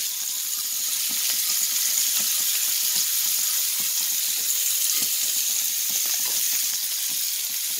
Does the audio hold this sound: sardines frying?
yes